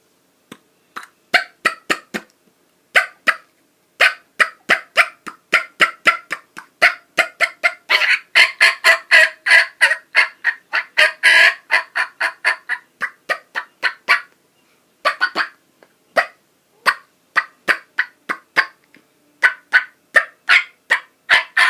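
A handheld turkey call produces rapid series of sharp clucks and cutting yelps, close and loud, in irregular bursts separated by brief pauses.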